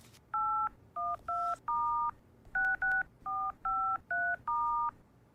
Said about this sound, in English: Mimi, can you help me make a phone call?